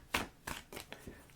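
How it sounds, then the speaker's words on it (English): A deck of tarot cards is shuffled in quick bursts, four or five crisp riffling swishes close to the microphone, with no talking. "I love the sound of shuffling cards."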